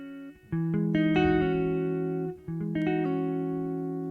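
A plucked guitar major 9th chord rings out, followed by quick note changes as the pinky pulls off a string, then another chord sounded and left to ring.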